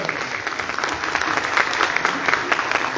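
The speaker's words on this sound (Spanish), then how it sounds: "Un aplauso para Lucho Pérez Laura." Audience applause at a Spanish-language event honoring a longtime radio broadcaster, dense steady clapping filling the room at even loudness with scattered brighter claps, alone without talk.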